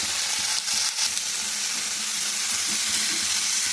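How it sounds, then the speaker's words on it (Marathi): Mixed vegetables sauté in a pan with a loud, continuous sizzle and frying crackle, broken by occasional stirring scrapes close by. No one talks over it. "आता हे छान सात आठ मिनटं ना भाज्या परतून घेते मी एकसारखं"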